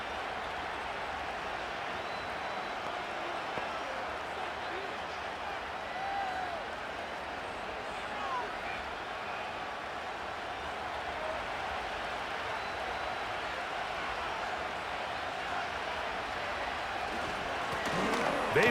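A steady, broad crowd roar fills a video-game football stadium in Madden 25 as the Chicago Bears visit the Arizona Cardinals, holding at an even level throughout and swelling slightly at the very end.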